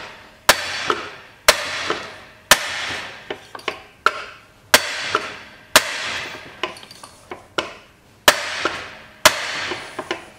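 Sharp metallic strikes of a brass bar hammering a nut onto a shaft, about ten loud, close blows at an uneven pace, each ringing briefly before the next hit, with no talk.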